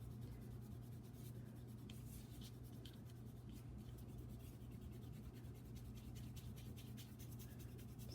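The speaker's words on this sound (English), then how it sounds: "I'm actually going to erase a little bit of what I just drew" A pencil drawing on paper is erased, faint, quick rubbing strokes repeated in a steady scratchy rhythm under a low constant hum, close and quiet with no talking.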